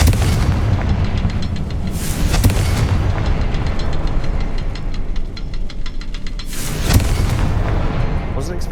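Confringo blasting spell in the Hogwarts Legacy video game inside a mine, loud booming explosive bursts over a dense game soundscape, with a sharp blast near the end.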